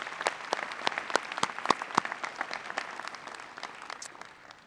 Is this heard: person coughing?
no